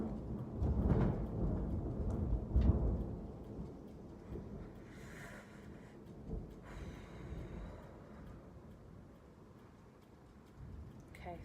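Thunder rolls through a rainy thunderstorm, with a couple of deep rumbles early on that fade into a softer, continuous rain hiss.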